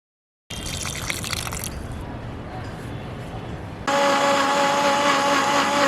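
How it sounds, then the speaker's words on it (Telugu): A kitchen mixer runs continuously, blending watermelon, ice apple and tender coconut water into juice, with a steady whirring churn that shifts to a louder, higher-pitched drone partway through, with no talk over it. "ఇక ఈ మూడింటిని మిక్సీలో పోసి తిప్పురి."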